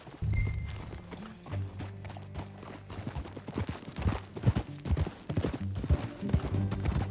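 Horse hooves clip-clop in a steady trotting rhythm during a ride in the video game Red Dead Redemption 2, moderately close and continuous, with a low background tone and no talking.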